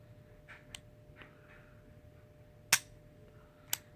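Tanfoglio Stock 2 9mm IPSC production pistol with a lightened trigger and recoil spring, its trigger reset giving two sharp, close metallic clicks a second apart, with faint softer clicks before them in a quiet room.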